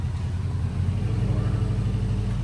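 A car exhaust fitted with a Megan Racing downpipe gives a deep, steady low rumble close by, pulsing slightly as the engine runs.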